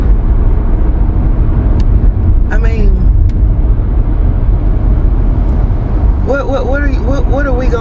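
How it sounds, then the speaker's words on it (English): A truck passes on a road nearby, its broad low engine rumble holding steady throughout while a person talks over it, the speech growing more prominent toward the end. "look at this truck right here"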